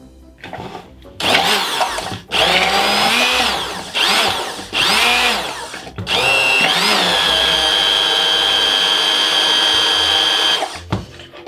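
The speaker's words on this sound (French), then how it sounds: "C'est ce qu'on appelle tout simplement un mixeur plongeant." A handheld immersion blender whirs loudly while emulsifying a ganache, its motor pitch rising and dipping through several short bursts before settling into a long, steady run, with no talking.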